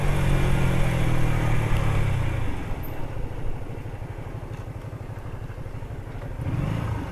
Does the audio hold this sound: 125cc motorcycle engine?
yes